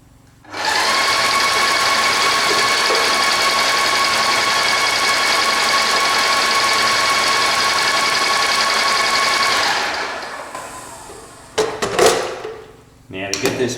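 An airless paint sprayer pumping turpentine through the spray gun gives a loud, steady mechanical whine for about nine seconds, then stops, followed by a few clunks and handling noises.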